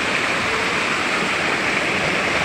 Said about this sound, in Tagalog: Napakalakas ng talon.